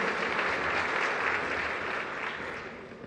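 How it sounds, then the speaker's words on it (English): Applause from the audience at a UN peacekeeping ministerial meeting, a steady wash of clapping across a large hall that holds level and then slowly fades. "Shall we please give him a round of applause?"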